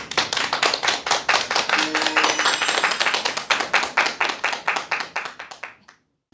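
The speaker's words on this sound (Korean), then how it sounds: "큰 박수 부탁드립니다." Studio audience clapping in welcome for a lecturer at a Korean talk show on persuasion, a steady close patter of many hands that fades out near the end, with no talk over it.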